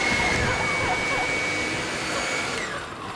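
A leaf blower fired up and run steadily, a loud continuous whooshing roar with a thin high whine, holding for about three seconds and easing slightly at the end.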